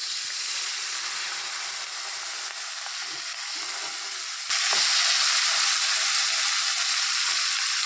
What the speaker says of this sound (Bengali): পেঁয়াজ ভাজা যে তেলটা ছিল তার মধ্যেই আমি এখন মাছটা ভেজে নেব।